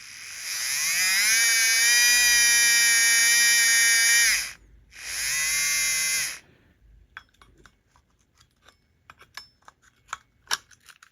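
Motor of a Life-Like HO scale F40PH model locomotive spinning on the bench, a high steady electric whine in two bursts with a short gap, followed by scattered small clicks and taps close by.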